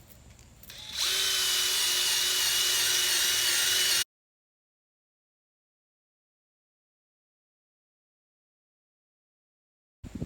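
A power sander works on a Lexus IS300 headlight, a loud steady high-pitched whir starting after a second and running about three seconds before cutting off into silence, with a brief noise at the very end.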